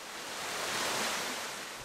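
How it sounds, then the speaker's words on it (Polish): Water flows in a Darksiders 2 game level, a steady broad rushing wash like surf, moderately loud and unbroken, with no talk over it. "Teraz woda płynie"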